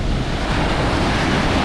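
Choppy sea waves breaking at a busy beach produce a steady, loud, broadband wash of surf with wind rumble across the microphone, continuous with no voices.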